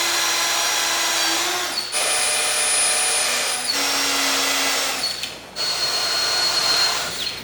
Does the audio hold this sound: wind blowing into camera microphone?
no